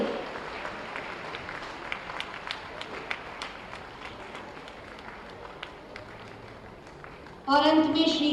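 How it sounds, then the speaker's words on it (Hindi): Applause from the audience at the UP Day ceremony in Lucknow honouring award recipients, moderate scattered clapping fading, then a voice speaking near the end. "तालियों से हौसला बढ़ाइए,"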